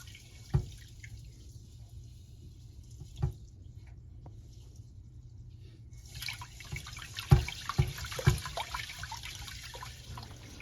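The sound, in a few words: water rinsing sushi rice by hand in a bowl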